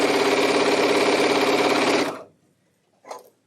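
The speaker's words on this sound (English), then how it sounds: "we're just going to go through and sew all of these together" A sewing machine stitching quilt block pieces whirs steadily and loudly for about two seconds, then stops, followed by a brief soft clunk or rustle.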